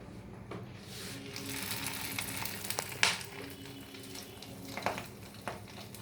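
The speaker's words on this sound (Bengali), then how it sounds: "এবার এক এক করে বড়াগুলো ভাজবো" Fish and egg fritters (bora) sizzling in hot oil, a steady crackling fry with a few sharper pops and spatters, close and moderately loud with no talk.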